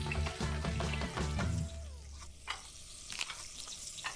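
Ghee sizzling in a pan while cooking uttapam in the video game Venba, a dense frying hiss with layered game music at first, then softer sizzling and light stirring clicks.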